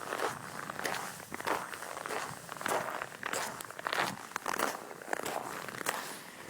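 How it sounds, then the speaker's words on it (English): Footsteps crunch steadily over very cold, frozen snow on a walk to school, close and rhythmic, each step a crisp, crackling crunch with no talking. "this is the sound of snow."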